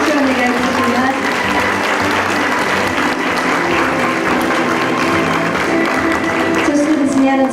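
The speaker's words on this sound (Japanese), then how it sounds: "ファイナリスト、メダリストの皆さんにも大きな拍手をお願いいたします。" An audience at the 2017 World Photographic Cup award ceremony applauds finalists and medal winners, a loud, sustained hall-filling clapping with some voices mixed in, steady for over seven seconds.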